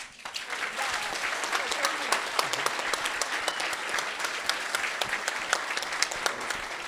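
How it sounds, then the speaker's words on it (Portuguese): An event audience claps steadily, a dense, even wash of applause with some sharper individual claps standing out, sustained throughout at moderate loudness. "Elas merecem esse aplauso, que foram elas que fizeram esse evento."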